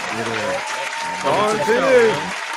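Voices talk and call out over a background of crowd clapping and cheering at a hip-hop showcase, with the noise swelling slightly midway.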